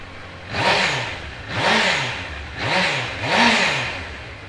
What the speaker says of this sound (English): I'll give it a start up whilst you're over there so you can have a listen to it.